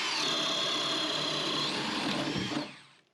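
A power drill boring a hole through wood for wiring in an off-grid cabin loft, a loud steady high-pitched whine that drops and stops after about two and a half seconds.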